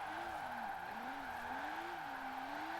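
Tires skidding as a car drifts sideways in a racing video game, with a steady engine drone and a wavering squeal under a constant bright whine, continuous and close throughout.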